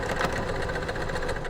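A sewing machine stitches dress lining in a brief, steady, close motor hum with an even rhythmic needle patter.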